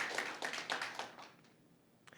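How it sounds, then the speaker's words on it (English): Debate participants get a brief round of applause from the audience, clapping fairly quietly and a little distant, then fading out within about a second and a half, with one last clap near the end. "Can we applaud them for their excellent effort?"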